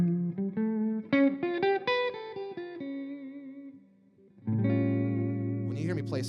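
Electric guitar run through effects plays a whole tone scale line, a quick series of bright notes with echo and distortion, then a sustained heavier chord after a short pause.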